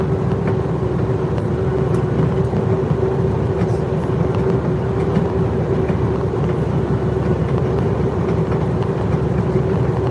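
Semi truck running bobtail without a trailer on a long highway haul home from Alaska, with a loud, steady engine drone and road rumble heard from inside the cab, no talking.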